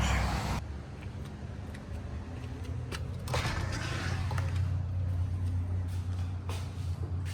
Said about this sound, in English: Although the traffic noise is a little much.